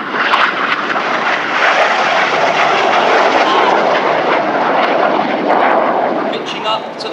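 RAF Red Arrows jets roar overhead at Epsom College in a loud, steady, broadband wash of engine noise that holds for several seconds, with crowd voices faintly mixed underneath.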